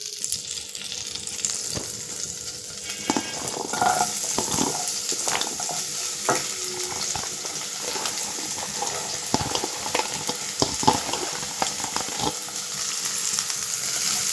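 Onions fry in hot butter and a little oil in a kadai, giving a steady crackling sizzle dotted with sharp pops and spoon clicks throughout, close and moderately loud.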